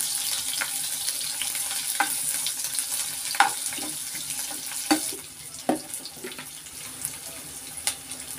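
Onions fry in a pan with mustard seeds, cumin and a pinch of salt for egg rice, making a steady close sizzle broken by occasional clinks and scrapes of stirring, with no talking.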